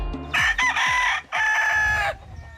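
A fighting cock in a stable of about a hundred roosters crows loudly and close, one full cock-a-doodle-doo in two drawn-out strained phrases, with low clucks around it.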